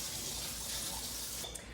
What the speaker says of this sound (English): I'm actually going to rinse them off with some cool water.